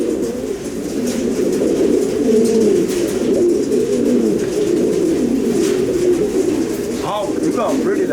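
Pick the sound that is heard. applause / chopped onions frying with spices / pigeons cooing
pigeons cooing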